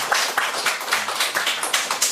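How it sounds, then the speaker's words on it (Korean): A church congregation at a Sunday worship service claps in unison, a steady rhythmic beat of roughly four claps per second, loud and close, with no talking over it. "힘내시고 담대하시라고 우리 박수 한번 주세요."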